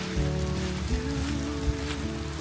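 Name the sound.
rain falling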